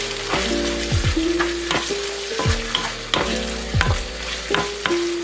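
Pork and green onion stir-fried in a wok for a jiang rou bao bun filling: a steady sizzle broken by regular spatula scrapes and clacks, close and fairly loud, with a faint musical tone underneath.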